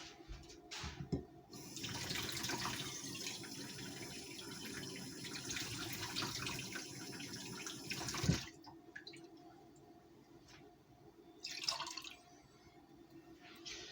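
Water runs steadily from a tap for several seconds with a hissing splash, then stops abruptly, leaving faint drips and small clinks.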